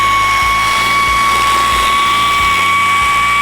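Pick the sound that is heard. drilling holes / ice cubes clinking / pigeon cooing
drilling holes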